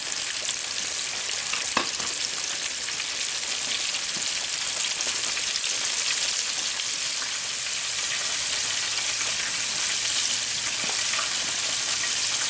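Fish and shrimp fry in hot oil for a po' boy sandwich, giving a steady loud crackling sizzle with occasional pops and no talk.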